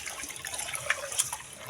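Water runs steadily from a tap into a kitchen sink, a continuous close hiss and splash with a few brighter splashes, no voices.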